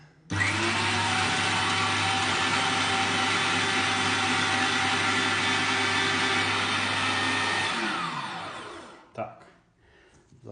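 A Qilive Q5763 electric meat grinder grating potatoes runs as a loud, steady motor drone for about eight seconds, then its pitch sinks as it winds down to a stop, followed by a few faint handling noises.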